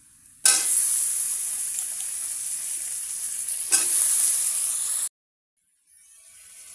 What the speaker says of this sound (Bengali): আমি আলুটা দিয়ে দিয়েছি, দিয়ে 2-3 বার নেড়েও নিয়েছি